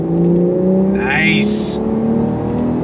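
A Porsche 911 Carrera twin-turbo engine revs on throttle from inside the car, a loud steady drone with rising pitch and a brief whooshing surge, as a voice speaks briefly over it.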